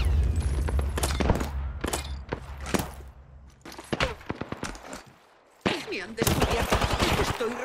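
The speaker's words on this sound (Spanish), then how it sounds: "Estoy recibiendo disparos." Gunfire in the video game Apex Legends, with bursts of automatic fire and single shots in close succession, a short lull, then heavy continuous shooting that resumes loudly.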